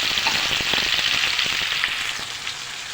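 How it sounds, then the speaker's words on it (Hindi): Potatoes fry in a pan with garlic-ginger paste, giving a steady, close hiss and sizzle with scattered crackles and faint stirring for about three seconds, no voices. "आलू फ्राई हो रहे हैं।"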